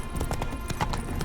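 A horse trots with a quick, even clip-clop of hooves in The Witcher 3 game, moderately close and continuous over the short stretch.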